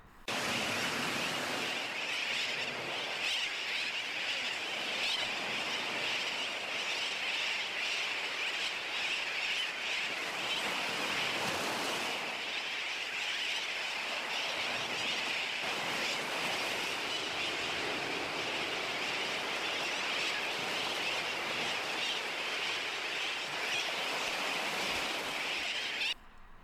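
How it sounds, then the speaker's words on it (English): A dense, continuous chorus of many birds chirping and calling at once, loud and unbroken throughout with no voices. "That was a big flock of birds."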